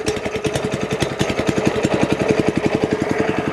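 The Honda engine on a Bartell B424/B430 edger fires up and runs with a rapid, even chugging beat, loud and close.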